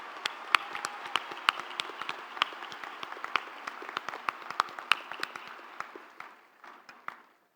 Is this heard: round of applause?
yes